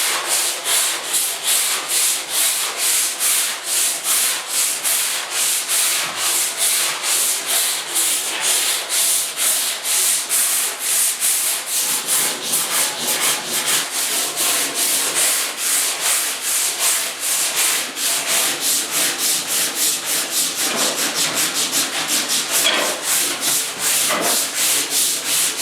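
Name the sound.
sanding a 1972 Ford truck tailgate with 80 grit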